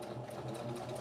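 Sewing machine stitching overlapped quilt pieces, a steady close, continuous mechanical whir with rapid stitch pulses throughout.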